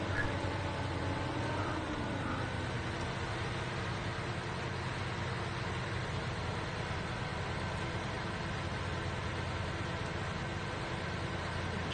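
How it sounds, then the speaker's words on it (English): A truck engine idles steadily in the SnowRunner driving game, a constant low mechanical drone mixed with broadband hiss that holds level for the whole stretch with no speech over it. "I actually accidentally left the engine going."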